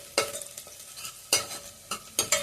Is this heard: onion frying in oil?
yes